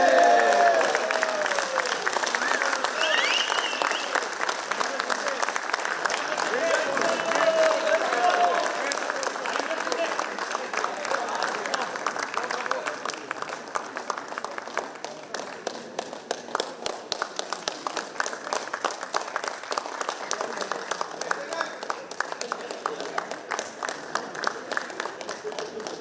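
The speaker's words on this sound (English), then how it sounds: "Can we have a big round of applause for Vipul Patil, please?" An alumni meet audience claps for an honoured guest, a sustained round of applause that fades gradually over about twenty-five seconds, with some voices underneath.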